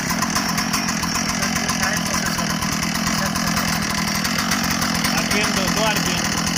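A rescue cutting saw, a machine for cutting stone, iron and wood, runs at a steady, loud, buzzing idle throughout a disaster search and rescue training session.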